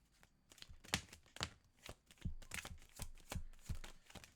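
Tarot cards being shuffled by hand, crisp riffling snaps and papery slides repeating in an uneven rhythm, close and fairly quiet, with no talking.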